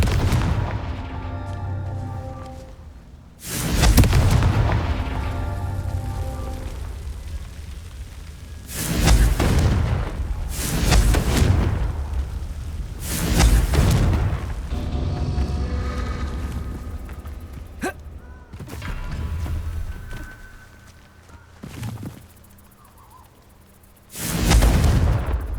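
Confringo fire spells in Hogwarts Legacy burst as loud booming explosions, about six of them at irregular intervals, each with a rumbling tail that fades into lingering background sound.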